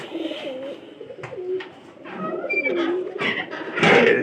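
Several pigeons indoors coo in overlapping, throaty low calls, close by, with some scuffling and brief higher chirps in the background.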